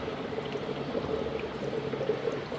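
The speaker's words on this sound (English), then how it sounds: "Bubbling away, easy as." Steady, soft bubbling and churning of aerated water in a brine shrimp hatchery, a continuous low wash with no voices.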